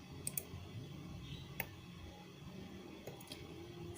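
Sparse mouse clicks and a keypress on a computer running Blender, a handful of sharp, faint clicks scattered over a few seconds against a quiet room hum.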